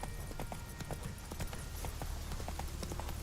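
Roach, a horse in the video game The Witcher 3: Wild Hunt, gallops in a steady rapid clip-clop of hooves over a constant low background rumble, with no talking.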